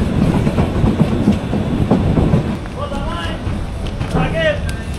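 Meghna Express intercity train pulling out of Hasanpur station, wheels clattering over rail joints in a steady loud rhythm close by, the clatter easing later while a voice talks over it.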